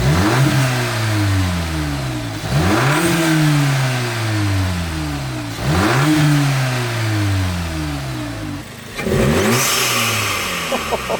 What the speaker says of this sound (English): Alex is gonna give it a cold start, let it warm up just a bit, and then we'll give some revs.